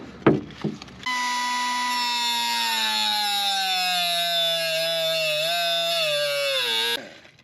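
An inexpensive air-powered cutoff wheel bites into metal with a loud, close, shrill whine lasting about six seconds, its pitch sagging under load before cutting off abruptly. A couple of short knocks come just before it starts.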